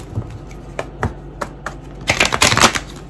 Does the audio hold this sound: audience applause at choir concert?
no